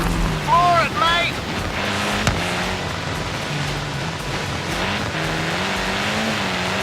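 A car engine in the Forza Horizon 3 racing game rises in pitch as it accelerates through snow and revs on through several gear shifts, loud and close, with a brief high whine near the start.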